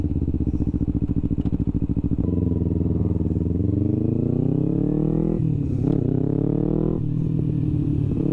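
A Kawasaki Ninja 250R motorcycle heard from the rider's seat: a loud, close engine idling with a fast pulse, then climbing in pitch through several rising revs and gear changes, a clatter partway through.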